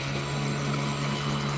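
An E-flite Cherokee RC airplane flies steadily overhead, its electric motor giving a continuous droning hum with a strong low tone, even and moderately loud with no talk.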